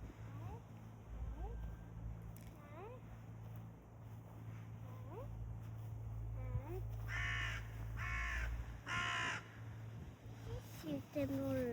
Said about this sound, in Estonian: Ettevaatust, Melinda, vaata see varese emme on ka seal.